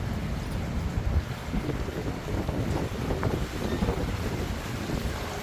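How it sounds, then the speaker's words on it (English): Wind buffeting on a 36th-floor rooftop pool deck in Bangkok: continuous low, rumbling gusts hitting the microphone, loud and steady, with no voices. "It's a bit windy here"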